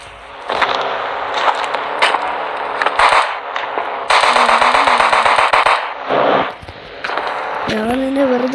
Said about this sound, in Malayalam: എൻ്റെ AK-47 ഉണ്ട്, അതുകൊണ്ട് അവനെ വെടിവെച്ച് കൊള്ളാം